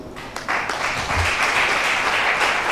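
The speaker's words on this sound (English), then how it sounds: "Please, let's applaud him." Audience applause for a speaker at a Nigerian Institution of Environmental Engineers gathering in Port Harcourt, a dense, steady patter of many hands clapping that swells after a moment and holds loud throughout.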